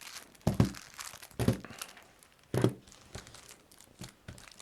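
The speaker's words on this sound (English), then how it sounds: "Just getting them all out of the box for you right now." Hegemony board game pieces being pulled from their box, with crinkling plastic and papery rustles in a few distinct bursts separated by short quiet gaps, close and fairly soft, no speech.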